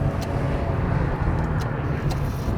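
A Maserati Ghibli S Q4 Ribelle Edition drives in sport mode, its engine giving a steady, close, low rumble with no talking.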